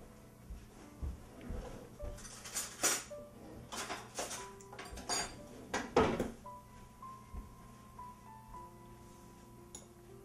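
Metal spoons clink against dishes during a tiramisu tasting, a series of sharp, close clinks and taps spread irregularly over about ten seconds, with light kitchen handling noise in between.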